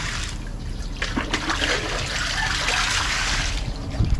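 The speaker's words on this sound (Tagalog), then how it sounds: "Lakas ng tubig." Water from a spring gushes strongly and steadily nearby, a continuous splashing rush that stays loud throughout, with no voices over it.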